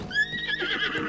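A horse neighs and whinnies in Zelda: Tears of the Kingdom, a clear rising call followed by a shakier, wavering tail, over faint hoof clip-clops in a wooded area.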